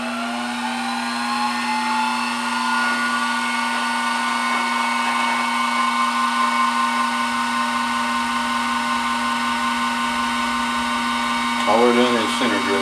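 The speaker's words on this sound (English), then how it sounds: "All we're doing is center drilling." A steady mechanical whine of a G704 milling machine center drilling a metal plate, running continuously, with a strong hum and a brief scraping cut near the end.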